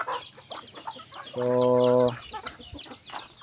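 Several chickens cluck and squawk nearby, with a rooster giving a short, drawn-out call in the middle and a voice speaking briefly.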